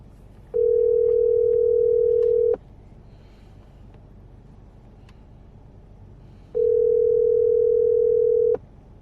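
A telephone ringback tone pulses twice, each steady buzz lasting about two seconds with a long quiet gap between, as a call to a food delivery service waits unanswered.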